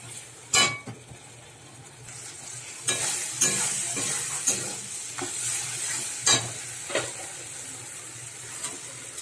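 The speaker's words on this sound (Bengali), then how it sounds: "দিয়ে আর একটু মশলাটা আমি কষাবো" Spice paste (masala) being fried and stirred in a pan for a potol (pointed gourd) and prawn curry, with a steady sizzle broken by several sharp scraping strokes of the spoon, close and alone.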